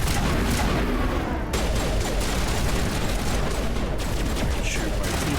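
Sustained, dense rapid gunfire from a sci-fi shooter game, Mass Effect Legendary Edition, loud and continuous with bursts of automatic fire and impacts filling the whole stretch.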